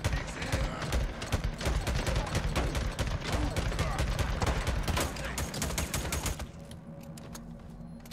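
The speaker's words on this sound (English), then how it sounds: "That took way more shots than it should have." Rapid gunfire from the Days Gone video game, dense bursts of shots rattling almost continuously for several seconds before cutting off into quieter ambience.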